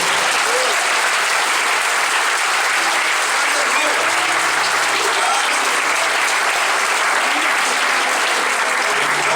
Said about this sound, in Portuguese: Uma salva de palmas para Jesus, né?